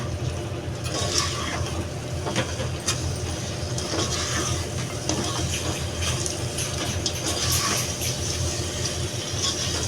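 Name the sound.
water being added to prawn biryani gravy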